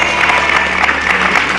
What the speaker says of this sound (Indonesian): tepuk tangan dulu dong buat pasangan ini